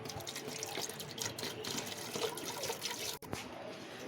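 About one and a half glasses of water pour into a pot of peas for matar pulao, a continuous close splashing gush with a brief break near the end.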